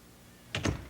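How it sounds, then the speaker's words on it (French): A door is locked with a couple of quick, close mechanical clunks and thuds after a quiet moment, with no talking. "Je vais barrer la porte."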